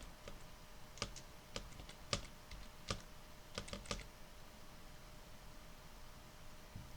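Keys tapped on a computer keyboard, heard as a short burst of quiet, close, irregular clicks, then fading into faint background hiss.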